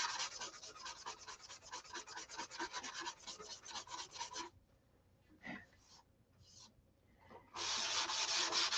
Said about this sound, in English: I'm sanding this primer down till I can see through it